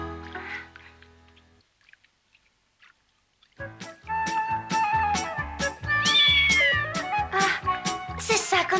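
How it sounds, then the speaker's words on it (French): A small kitten mews in a series of short, bright, repeated cries that follow a sustained tone and a brief silence, with voices and other sounds mixed in around it. "Alors, comment va cet adorable petit chat?"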